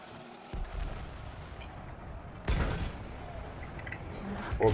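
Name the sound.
mortar cannon shots in video game Battlefield 1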